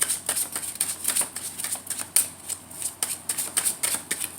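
Tarot cards shuffled by hand, close and continuous, with rapid rustling riffles and soft slaps repeating in quick irregular bursts.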